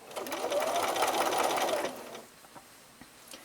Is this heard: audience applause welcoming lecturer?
no